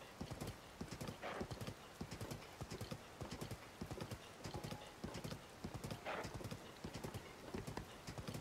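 Horse hooves clip-clop in rapid, steady rhythm from Zelda: Tears of the Kingdom, a continuous close galloping patter with occasional neighing bursts and no talk over it.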